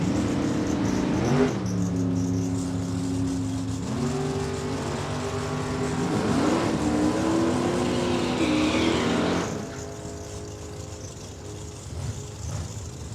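A 1968 Camaro on a drag strip, loud engine revving with rising and falling pitch sweeps as it accelerates through gears, then the roar drops away to a quieter distant rumble.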